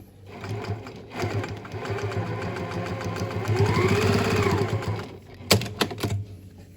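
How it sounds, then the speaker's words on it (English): A sewing machine stitches a Korean-inspired 3D fabric mask in a close, steady whirring run of several seconds, then stops and is followed by a few sharp mechanical clicks. "I'm stitching down to right to where it goes off"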